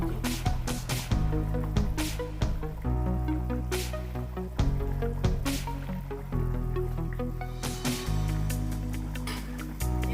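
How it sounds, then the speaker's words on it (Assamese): Fish pieces dropped into a boiling spinach curry, thick bubbling with wet plopping bursts and squelches repeating throughout, close and fairly loud, no talking. "উতল আহিছে উতল আহোঁতে মই এতিয়া ইয়াত মাছখিনি দি দিম"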